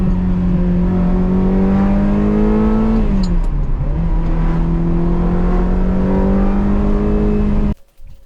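A Ferrari 360 engine runs steadily and loud while being driven to warm it, holding an even drone with a brief dip in revs midway before cutting off abruptly near the end.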